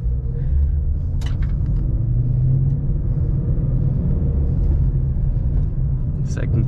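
A 2014 Mustang GT California Special with manual transmission slowing to a stop in neutral, its engine giving a steady low rumble, close and constant, while a person talks over it.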